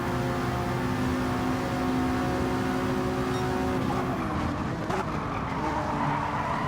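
A race car spins out on gravel in a racing game, its engine droning steadily while tires scrub and skid partway through.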